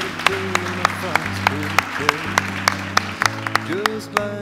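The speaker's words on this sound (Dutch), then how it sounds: "Applaus voor Henk" An audience claps for Henk at an NWO Spinoza lecture event, sharp claps landing in a steady, evenly spaced rhythm over a background of tonal music and voices.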